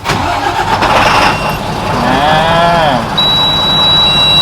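A Fuso six-wheel dump truck, 170 horsepower from 2019, cranks and its diesel engine starts, with a rising whine before settling into a steady idle up close.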